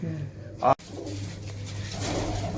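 Pigeons coo softly through a steady low hum, with a short burst of noise early on and people talking over the birds.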